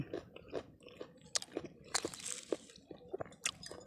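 Close, quiet biting and chewing of a crunchy, fully mature Khiao Sawoei green mango, with repeated crisp crunches and moist mastication throughout and no talking.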